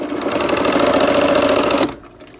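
A sewing machine stitches a quilt block with a steady, close mechanical whir, then stops abruptly near the end.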